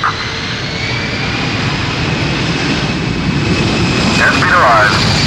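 KLM jet airliner engines spool up to takeoff thrust, a loud, steady broadband roar with a faint rising whine that holds for several seconds. A voice speaks over it briefly near the end.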